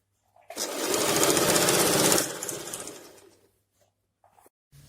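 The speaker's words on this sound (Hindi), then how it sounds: "अभी सिलाई डबल कर लेंगे।" A sewing machine runs a brief burst double-stitching a pant seam, loud and close for a couple of seconds before winding down and falling quiet, with faint clicks afterward.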